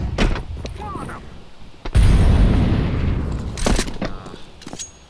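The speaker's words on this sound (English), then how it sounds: "Throwing the flashbang." Flashbang grenade going off in Counter-Strike 2, a sudden loud bang followed by a long, decaying ringing blast, with scattered game gunfire and effects around it and a voice speaking briefly.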